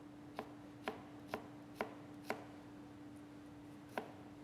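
A chef's knife making julienne cuts on a cutting board, six sharp taps in an uneven rhythm over a few seconds, close and fairly quiet against a steady background hum.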